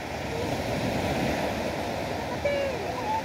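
Shallow sea waves at a beach at low tide in Agoo, La Union, a continuous soft wash of surf mixed with wind noise, moderately distant and steady, with faint voices in the background.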